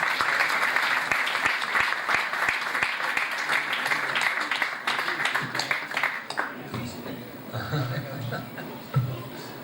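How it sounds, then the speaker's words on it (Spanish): Audience applause at a lecture: dense, loud clapping from a seated crowd for about six seconds, then fading into scattered claps, murmurs and a brief chuckle. "Un aplauso para él."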